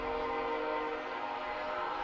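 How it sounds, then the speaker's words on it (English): A passing train near a baseball field at a Class B regional high school tournament sounds its horn in a long, steady, moderately distant blast that holds for the whole stretch, with no talk over it. "As another train rolls by, the first train horn was duetting our national anthem."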